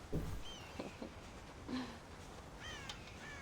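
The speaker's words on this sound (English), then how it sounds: "God damn crows!" Crows caw in the Red Dead Redemption video game near a farm silo, several harsh calls scattered across a few seconds, moderately close against quiet ambient background.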